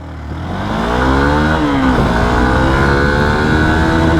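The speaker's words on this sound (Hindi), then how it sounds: "अभी देखिए थर्ड गियर से जब मैं फोर्थ गियर पर जा रहा हूँ" Hero Xpulse 200 4V adventure motorcycle engine pulling steadily on the move, its pitch rising then dipping around a gear change from third to fourth before climbing again, loud and continuous with no talk.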